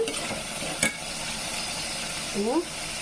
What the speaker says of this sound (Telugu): పసుపు వేసుకొని మంచిగా కలుపుకున్నాం